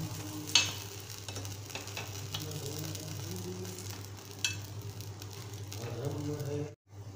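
Mixed dal appe frying in an appe pan while being turned to cook the second side, with a steady close sizzle, a low hum beneath and a few sharp clicks of a utensil against the pan.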